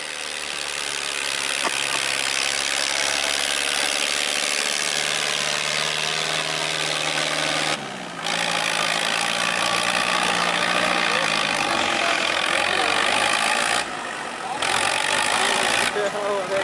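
A Sonalika 750 tractor engine idles at a village harrow competition, a continuous mid-to-low drone throughout, with a voice talking over it.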